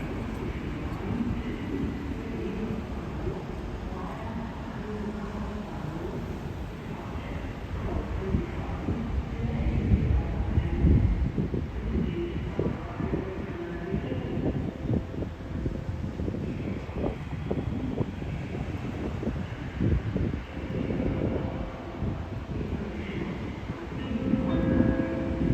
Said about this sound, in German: Gleis 8 erhält Einfahrt der Regionalexpress der Linie 9 nach Aachen